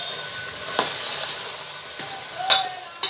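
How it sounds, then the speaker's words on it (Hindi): Minced meat and kachnar buds get stirred in a hot pan, a steady sizzle broken by a few sharp scrapes and clacks of the spoon against the pan. "अब हम इसमें कचनार डाल के डालेंगे। इसको मिक्स कर देंगे, चला देंगे।"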